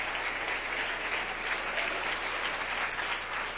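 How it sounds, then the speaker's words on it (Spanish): A church congregation applauds the Lord during a Spanish-language sermon, with steady, dense clapping at moderate level that continues unbroken for a few seconds. "Dele un aplauso al Señor."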